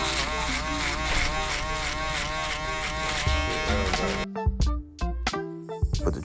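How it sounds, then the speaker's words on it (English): Electric shaver balding a client's head in a barbershop, a close, steady buzzing drone for about four seconds before cutting off into scattered handling clicks and knocks. "I pick up my handy dandy shaver, which is what I'm using to bald him and make him real crisp skin bald."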